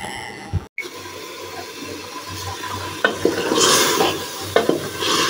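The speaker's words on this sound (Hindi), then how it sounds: "सालन मैंने भूनना स्टार्ट किया" Salan curry fries in a pan, with a soft, constant sizzle under repeated scraping strokes of a spoon stirring, heard close up.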